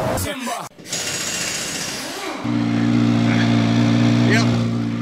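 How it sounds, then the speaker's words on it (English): A Corvette C8 Z06's engine fires up and settles into a loud, steady, high-pitched idle with strong harmonic tone, close to the car at night, following some brief rustling and handling noise. "The camera never does it justice, that intoxicating sound on a C8 Z06"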